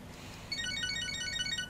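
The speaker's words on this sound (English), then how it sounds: "Phone." Cellphone ringtone in the video game Catherine, a faint repeating electronic melody of bright beeping notes that starts half a second in, over a low background hum.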